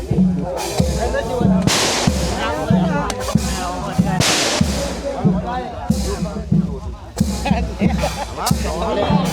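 Firecrackers go off at a Thai village merit festival, sharp loud pops and bursts cracking in irregular clusters close by while people talk and call out over the noise.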